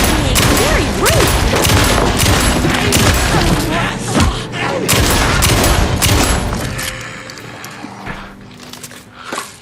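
Gunfire in the Alan Wake 2 video game: a loud, rapid volley of shots and heavy booms, mixed with a voice, that thins out toward the end into a few scattered bangs.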